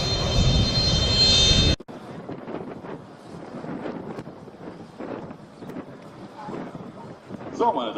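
An Airbus A400M Atlas military transport flies in at the ILA 2016 air show in Berlin. A loud engine roar opens the clip and cuts off after a couple of seconds, leaving a softer, distant drone under wind noise.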